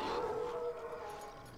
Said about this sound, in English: And a Howl.